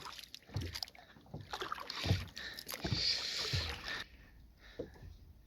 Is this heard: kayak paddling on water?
yes